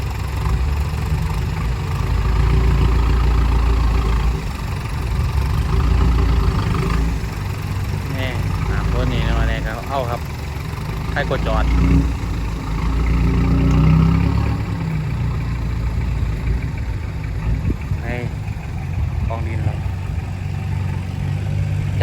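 Farm tractor engine idling on a rainy-season job where a tractor has got stuck, a loud continuous low rumble throughout, with people talking over it now and then.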